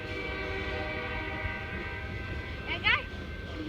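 A train rolls past with a sustained horn tone, and a loud burst of the horn near the end, while someone talks over it.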